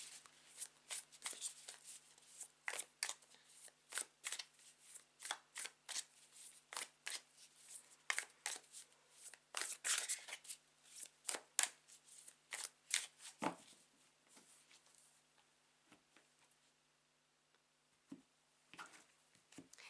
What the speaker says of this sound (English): whilst I shuffle the card